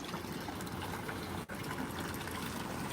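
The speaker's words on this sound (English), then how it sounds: "This is that Aquascape Biofalls or Waterfall Kit, whatever they call it." Water from an Aquascape BioFalls waterfall kit, driven by a pump, runs in a steady broadband rush and splash that stays even throughout, with one momentary dip partway through.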